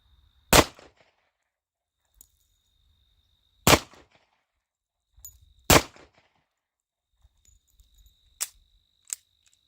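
A Tisas 10mm Yukon two-tone pistol fires factory ammo at a range while malfunctioning: three loud, sharp, close reports spaced a couple of seconds apart, then fainter metallic clicks and clanks.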